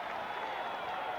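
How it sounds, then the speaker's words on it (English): An Atlanta Hawks home crowd at a 1988 NBA basketball game applauds, a dense, distant wash of clapping and crowd noise mixed with talk. "this Atlanta crowd applauding the hustle and effort of these Atlanta Hawks"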